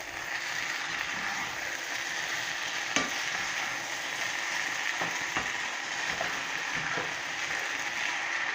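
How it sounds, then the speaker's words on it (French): Rice for Pakistani biryani is stirred in a pot, giving a continuous soft hiss with occasional scraping clicks of the utensil against the pot. "maintenant on va mélanger les riz"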